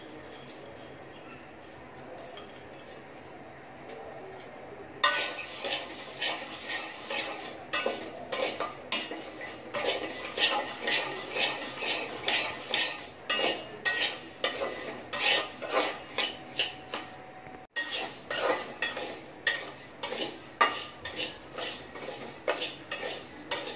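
Lentils (dal) fry in a wok, metal spoon scraping and clinking against the pan in quick rhythmic strokes over a light sizzle, starting after a quieter opening and pausing briefly near the end.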